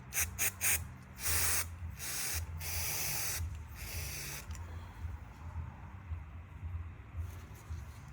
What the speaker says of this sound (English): So use a copper spray on the brake caliper holding bracket.